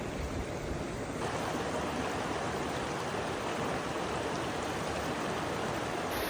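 The Pecos River in New Mexico flows in a steady, broad rushing wash of water, close and continuous throughout, with no voices.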